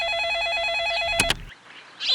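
A cartoon telephone rings with a warbling electronic trill, then stops with a couple of sharp clunks as the receiver is picked up, followed by a brief quiet moment.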